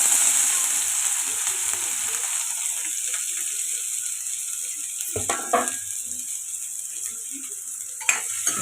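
Chopped onions and green chillies frying in hot oil for matar paneer masala, a loud hiss that fades over several seconds, followed by a few sharp clatters of stirring near the end.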